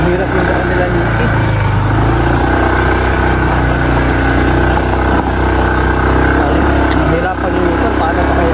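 Motorcycle engine labouring steadily up a rough, steep road, a loud continuous drone with a speaker talking over it throughout.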